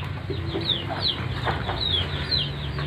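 Clucking from a Bangkok fighting rooster, with short, repeated calls at close range over a steady low background hum.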